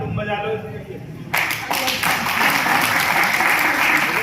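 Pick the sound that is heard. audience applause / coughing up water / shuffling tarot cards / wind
audience applause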